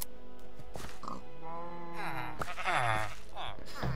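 Blocky sheep in a Minecraft world give a few short bleats alongside pig-like grunts, close and fairly loud, with someone talking over them throughout.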